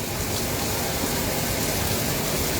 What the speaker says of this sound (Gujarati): એ પ્રકારનું વરસાદી ઝાપટું અત્યારે કમોસમી વરસી રહ્યું છે